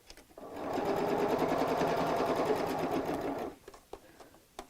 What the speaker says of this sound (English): so what I am going to do is to stop sewing a 1/4 inch before I reach the end